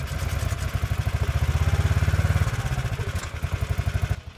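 A snow sled powered by a lawnmower engine sputters and catches, then runs with a fast, steady thumping putter. It sits close and loud, with a brief change in rhythm partway through.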